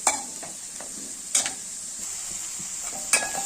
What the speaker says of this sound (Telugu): ఉల్లిపాయలు, పచ్చిమిర్చి, కరివేపాకు ఇవి బాగానండి ఉల్లిపాయ ముక్కలు కలర్ మారే వరకు కూడా బాగా వేపుకుందాం